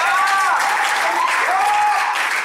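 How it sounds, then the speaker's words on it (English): A group gives a round of applause, loud, dense clapping close by, with voices calling out over it throughout. "So one more time, I give you guys a round of applause."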